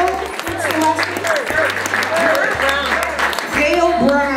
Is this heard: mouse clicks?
no